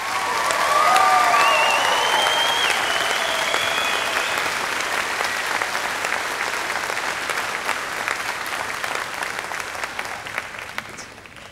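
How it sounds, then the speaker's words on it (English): A high school graduation audience applauding steadily, loud and continuous, with a few whoops and whistles early on. "Let's give them a rousing round of applause."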